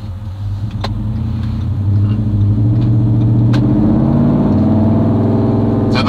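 A Ford Ranger PX1 fitted with a V8 accelerates away on a drive, with the engine heard from inside. A loud, close rumble swells as the revs climb, then holds a steady deep drone.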